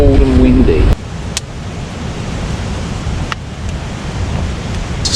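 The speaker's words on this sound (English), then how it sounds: "But it is definitely cold and windy." Wind gusts buffet a small pup tent at a cold, wet night campsite, a loud steady rushing roar broken by a few faint clicks and knocks, with no talk.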